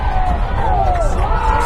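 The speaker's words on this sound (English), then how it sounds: "Crowd's getting loud." Crowd noise at a high school football game, a steady loud roar of voices with faint whoops running through the whole moment.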